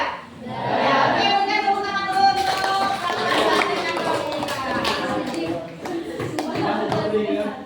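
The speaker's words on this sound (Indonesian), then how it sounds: "Oke, berikan tepuk tangan dulu." Students in a classroom clap together in a steady round of applause, with children's voices and an adult's speech mixed in over the clapping throughout.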